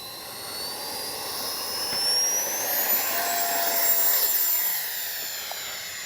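An E-flite 64mm Viper RC ducted-fan jet sweeps overhead on a flyover, its high-pitched whine rising and fading as it passes, loud and continuous with no talk.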